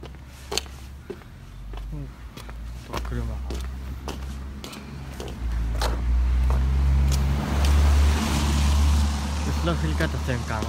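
A car drives past on a quiet residential road during a cloudy, rainy walk, its engine and tire rumble swelling loud and close in the second half, with a person talking faintly at the start.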